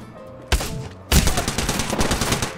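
Gunfire in Apex Legends, starting with a single sharp shot and then breaking into a loud, rapid automatic burst of closely spaced rounds.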